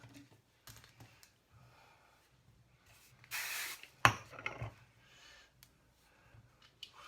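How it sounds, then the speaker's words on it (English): A short burst of hairspray hisses for about a second, followed by a sharper rustle, with quiet handling noises around it. "Spray it a little bit more."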